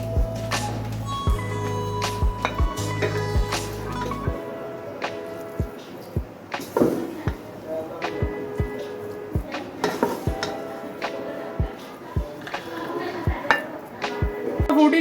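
Beef qeema karahi is served from the pot into a serving dish, with a steady stream of metal spoon scrapes and clinks against cookware, plus a short stretch of sizzling at the start, all close and moderately loud.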